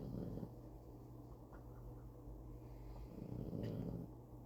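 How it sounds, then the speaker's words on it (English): An overweight King Charles Spaniel snores with low, rough, rhythmic breaths, faint and close in a quiet room. "And now I got my dog Scarlett down here snoring"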